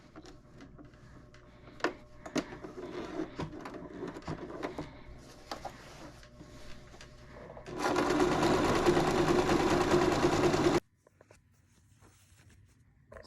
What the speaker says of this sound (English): I'm going to use a zigzag stitch, and I'm going to put it to number 2 so the seams can stay tight.